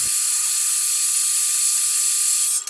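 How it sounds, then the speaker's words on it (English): Blow dryer aimed at wet watercolor paint: a loud, steady high-pitched whir and hiss that runs unbroken for nearly three seconds and then cuts off abruptly. "So maybe I'll hit that blow dryer again."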